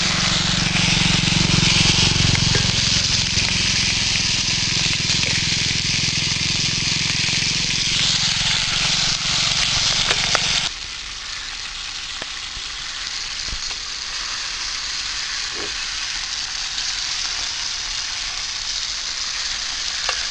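Fish sizzling in hot oil over a roadside stove at Mayanur, a steady loud crackle that drops to a quieter, thinner frying hiss partway through, with no talk.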